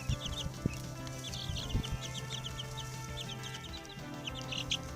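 Backyard chickens clucking softly and chirping in short, scattered calls over a steady low farm hum, fairly close and continuous with no talk.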